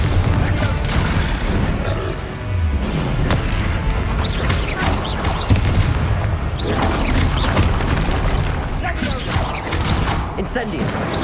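Bombarda spell blasts in Hogwarts Legacy go off as a dense run of loud booming crashes and rumbling impacts, one after another, close and busy with combat noise throughout.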